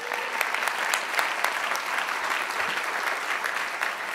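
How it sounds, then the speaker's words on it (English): Convention hall audience applause, a continuous even wash of many hands clapping with scattered sharper claps, somewhat distant and without speech. "Give them a round of applause."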